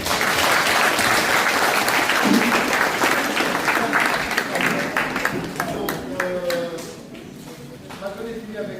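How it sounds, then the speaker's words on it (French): Audience applause fills a boxing club's general assembly hall, steady dense clapping from a crowd that slowly thins and fades toward the end, with some voices talking over it late. "On peut applaudir un petit peu."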